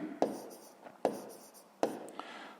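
Pen writing by hand on paper while working a sixth-grade math exercise: three short scratchy strokes with quick taps, close and fairly quiet.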